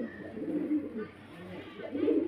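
Low, throaty cooing from a male pigeon comes in repeated phrases, close by and moderately loud, with a murmur of background noise.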